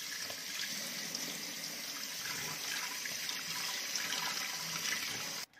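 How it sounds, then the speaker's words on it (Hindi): Fresh water runs steadily over grated raw papaya being rinsed in a strainer, a continuous soft rushing and splashing that cuts off abruptly at the end. "फ्रैश पानी ना धो लेना जी इनू"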